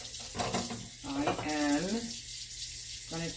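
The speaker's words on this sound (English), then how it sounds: "And make sure you wash your hands. I'm washing mine right now." Running tap water splashes as hands are washed at a kitchen sink, a continuous moderate gush with scrubbing variation, heard without speech.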